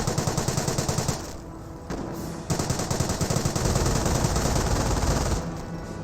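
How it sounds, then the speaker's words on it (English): Sustained rifle and machine gun fire in a World War II real-time strategy battle, dense rapid bursts continuing throughout, loud and close with a short lull near the two-second mark. "Taking rifle fire."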